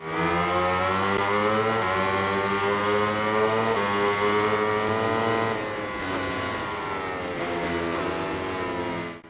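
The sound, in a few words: racing motorcycle engines in a video game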